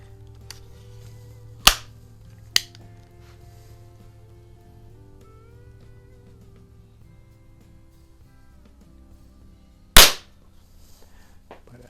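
Marksman model 2004 air pistol fired at a target, three sharp, close snapping shots, two a second apart early on and another several seconds later, over a quiet outdoor background hum.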